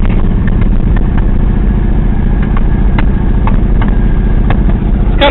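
A 1979 Ford F250 pickup engine runs steadily up close, a loud low rumble with an even pulsing beat and occasional faint clicks.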